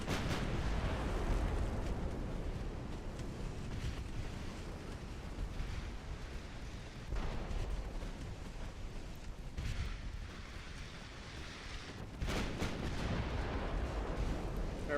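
Battleship gunfire and shell hits in a naval battle video game rumble as a continuous low, heavy barrage, with deep booms swelling now and then over a dense churning background.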